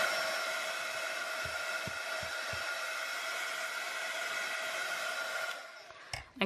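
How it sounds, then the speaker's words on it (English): Hair dryer blowing steadily on a handmade distress-stain splash card, a close, even whirring hum that runs for several seconds, then cuts off with a few handling clicks at the end. "So I'm gonna dry it again."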